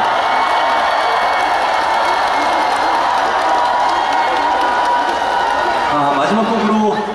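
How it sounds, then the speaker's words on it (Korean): A large outdoor festival crowd in Daejeon applauds and cheers loudly and continuously, with shouts and whoops rising over dense clapping throughout. "한번 큰 박수 보내주시면 정말 감사할 것 같습니다."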